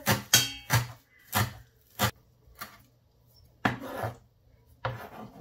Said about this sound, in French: je vais découper mes herbes aromatiques